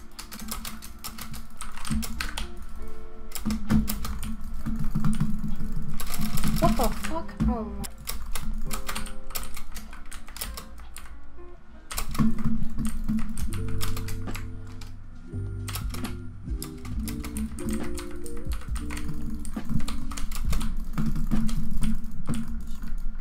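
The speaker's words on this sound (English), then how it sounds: "it's mostly just keyboard and mouse sounds" Computer keyboard keys and a mouse click rapidly and continuously while someone plays Bedwars. The clatter is close, with lo-fi music in the background and occasional voices.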